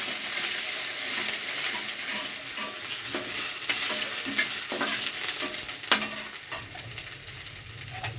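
Urad dal, chana dal and ginger frying in oil in a pan for beetroot palya, a steady bright sizzle with repeated scraping and stirring strokes throughout, close up and without talking.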